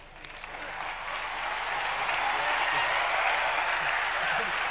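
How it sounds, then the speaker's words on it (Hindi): Dense audience applause at a live tribal literature festival event in Raipur swells quickly and holds as a loud, continuous roar of clapping from a large crowd. "आपकी तालियों की गड़गड़ाहट बनी रहनी चाहिए"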